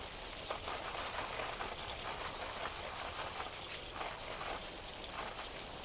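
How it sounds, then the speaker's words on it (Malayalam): Water pours and splashes steadily onto black pepper plants and soil, a constant hissing spatter with no voices. "കുരുമുളകിന് ഇത് വെള്ളം ഒഴിച്ചു കൊടുക്കാം കേട്ടോ."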